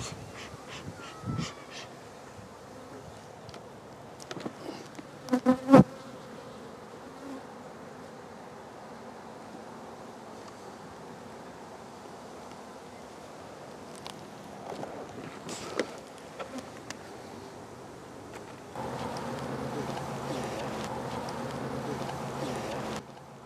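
Honeybees buzzing around an open hive colony being reassembled for winter in a cold climate: a faint, continuous drone with occasional closer passes and handling knocks, and a louder buzzing swell near the end.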